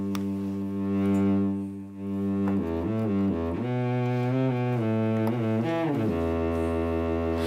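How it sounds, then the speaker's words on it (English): Synthesized cello from a physical-model plugin, playing a slow expressive line of bowed notes that glide between pitches, with rich sustained tones and clear vibrato, heard alone. "they made a computer model of a cello"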